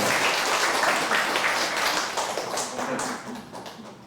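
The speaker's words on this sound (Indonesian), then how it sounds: "Tepuk tangan buat itu semua." An audience applauds at a talk on karma teachings held at Borobudur, a dense, steady wash of clapping that slowly fades toward the end.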